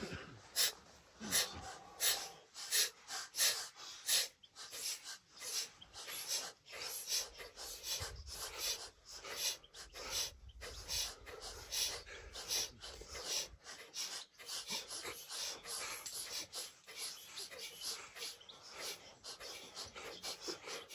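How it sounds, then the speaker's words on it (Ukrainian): A breath of fire yoga exercise in a morning workout routine: a long series of rapid, forceful, rhythmic nasal exhalations, close and sharp, pulsing steadily without any speech. "Переходимо до вогняного дихання."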